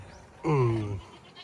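A single goat gives one loud, close, wavering bleat lasting about half a second, then quiet.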